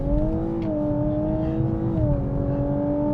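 Lexus LC500h hybrid with a CVT that simulates ten gears, its engine droning steadily under hard acceleration, with the pitch dipping briefly twice like quick upshifts.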